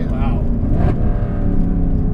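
A 2009 Mercedes C63 engine roars loudly under hard acceleration, a dense low rumble filling the cabin throughout, with people talking over it.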